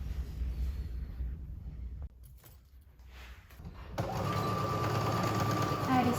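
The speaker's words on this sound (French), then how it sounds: "on assemble des deux côtés endroit contre endroit et on va venir coudre au point droit" Sewing machine stitching a straight seam on a skirt, a brief burst, a pause with handling noise, then a steady, fast mechanical whirr close to the microphone, with a voice speaking faintly.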